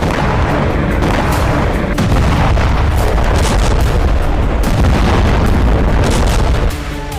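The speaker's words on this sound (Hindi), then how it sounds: "क्रीमिया से लेकर काला सागर तक बारूदी कोहराम मच गया" Explosions and artillery fire in Crimea and over the Black Sea: continuous loud booming and crackling blasts, dense overlapping bursts with no pauses, easing slightly near the end.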